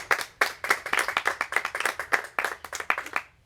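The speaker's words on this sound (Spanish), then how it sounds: "Demos un aplauso a Jesús." A church congregation at a Spanish-language service claps in a brisk, rhythmic beat, sharp hand claps landing in quick succession, close and fairly loud, with a pause midway before the clapping picks up again.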